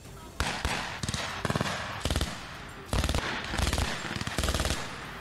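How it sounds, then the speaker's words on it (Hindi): Bursts of automatic gunfire from an Estonian army unit in a military drill, several rapid strings of shots in quick succession, loud and close with echo between volleys. "वहां एस्टोनिया की फौज की टुकड़ी जोरदार गोलियां बरसाती नजर आई"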